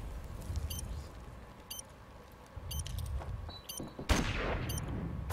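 Gunfire in the video game Modern Warfare Remastered: scattered shots and bursts over a busy, noisy game background, with one louder, sharper blast near the end.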